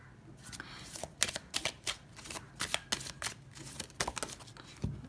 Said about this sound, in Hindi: और एक कार्ड इस डेक से पुल करते हैं